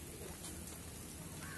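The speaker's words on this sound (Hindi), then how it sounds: "बारिश भी बहुत हो गई है।" Steady, dense hiss of rain falling on surfaces at a zoo, continuous and even throughout with no voices, heard from a slight distance.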